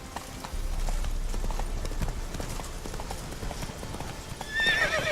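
Roach, a horse in The Witcher 3: Wild Hunt – Blood & Wine, clip-clops steadily at a walking pace, with a brief whinny near the end over a low rumbling backdrop.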